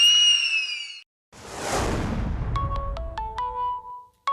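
A phone ringtone sounds in a comedy-show office scene, a short melodic electronic tone at first, then broken by a whooshing burst before a run of rising and falling beeping notes rings out clearly with no talk over it.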